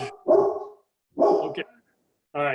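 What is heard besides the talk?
dog barking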